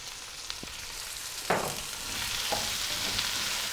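Chopped capsicum, tomato and onion fry with chicken in a pan, a steady hiss broken by a few spoon scrapes and knocks as the mixture is stirred.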